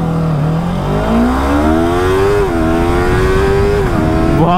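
Yamaha R3 motorcycle with a quick shifter and PowerTronic ECU at full throttle, engine pitch climbing and dropping sharply through quick upshifts, loud and close with no talk.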